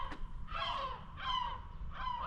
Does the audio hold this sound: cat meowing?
no